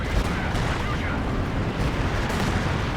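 Rocket artillery from a Katyusha pounds a Company of Heroes 2 battlefield, a dense, continuous roar of blasts and rumbling explosions that fills the whole stretch with no clear gaps between impacts.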